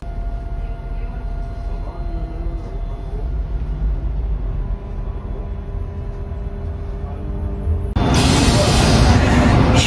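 An M3 metro train arrives at Charleroi station with a continuous low rumble and rail hum, then a sudden loud hiss of air bursts out near the end, recorded close by.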